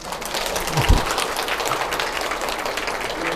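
Audience at a hospital aortic disease health lecture claps steadily for several seconds, a dense, even patter of hands with one brief thump near the start.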